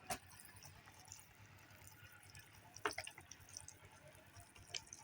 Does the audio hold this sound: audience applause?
no